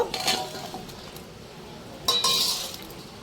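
Clattering and clinking of washed raw green mango pieces tipped into a bowl for pickle, with two clusters of bright clinks, the second stronger, near and moderately loud with no talk.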